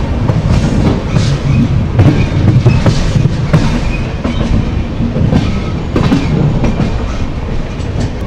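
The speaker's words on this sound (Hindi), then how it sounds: "हमारी जो ट्रेन है वो अपने पहले हॉल्ट पर आ चुकी है जो कि है हरिद्वार" The Dehradun Janshatabdi passenger train running on its rails, a loud steady rumble with rhythmic clickety-clack of wheels over joints heard from on board.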